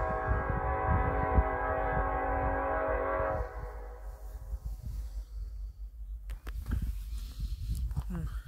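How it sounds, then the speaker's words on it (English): A slow-moving BNSF loaded coal freight train led by two locomotives with distributed power units at South Bevier, Missouri, rumbling steadily near a crossing with its horn sounding early, then continuing wheel and car noise. "There's that train. He's running pretty slow."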